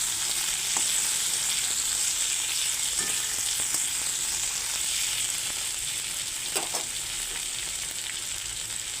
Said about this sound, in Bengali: এখন আলুগুলো ভাজা ভাজা হয়ে গেছে এখন দিয়ে দিচ্ছি কাঁচা লঙ্কা আর টমেটো